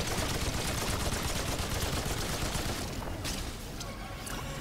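Dense, continuous gunfire in the video game Remnant 2 during a boss fight, a loud, rapid fusillade of shots that fades slightly toward the end, with a voice talking over it.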